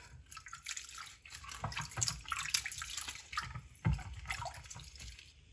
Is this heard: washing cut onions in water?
yes